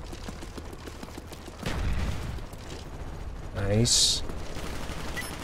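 Rapid game gunfire in Call of Duty: Black Ops, with bursts of shots under a constant busy battle din and a short spoken remark.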